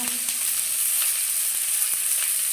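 Watermelon, potato and pumpkin peels fry in hot oil with a steady bright sizzle and occasional soft pops and stirring scrapes, close and continuous, with no voices.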